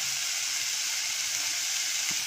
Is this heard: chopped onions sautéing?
yes